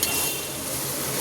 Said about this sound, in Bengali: রসুনটা আমি ভাজা ভাজা হয়ে যাক, নাড়িয়ে নিই